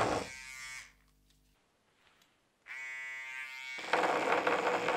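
An electric toothbrush resting on a desk buzzes in two loud rattling bursts separated by a quiet gap, the second burst growing harsher.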